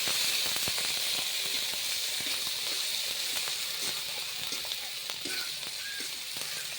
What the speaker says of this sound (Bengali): এখন পোস্ত, চারমগজ, কাজু আর চীনাবাদামের বাটাটা দিয়ে দিলাম আর একটু হলুদের গুঁড়ো